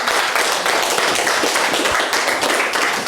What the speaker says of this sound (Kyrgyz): Урматына кол чаап коюңуздар.